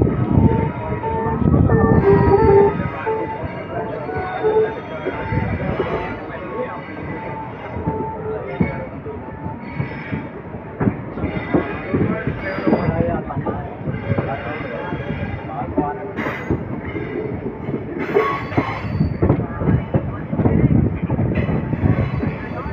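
Circar Express train rumbling slowly into a platform at Vijayawada junction, a low steady rolling with clanks and surges, heard under someone talking.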